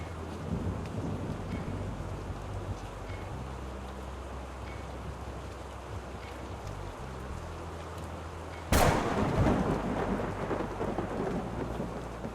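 Steady rain falls throughout a stormy scene in the video game Rue Valley, with low rumbling thunder underneath and a sudden loud thunderclap near the end that rolls on afterward.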